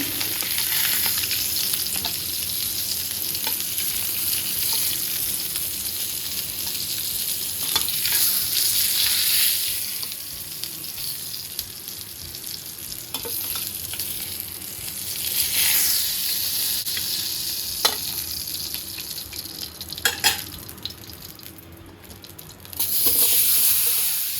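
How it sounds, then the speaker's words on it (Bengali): Onions fry in a pan after hilsa fish and potatoes were cooked, giving a steady loud sizzle with occasional stirring scrapes throughout and a brief lull near the end. "পেঁয়াজটা ভাজছি এতক্ষণ, মাছ আলু ভাজা হয়ে গেছে।"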